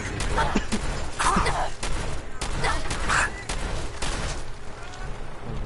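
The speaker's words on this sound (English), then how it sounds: "this shotgun" Shotgun blasts in a PS4 video game, several heavy booming shots spaced a second or so apart over a dense background of gunfire and game noise.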